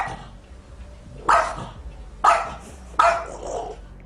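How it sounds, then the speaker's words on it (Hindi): A dog barks angrily at a cat sitting in the dark, three loud, sharp barks spaced about a second apart, with low growling and background noise in between. "ये कुत्ता बड़े गुस्से में इस बिल्ली पर भौंक रहा"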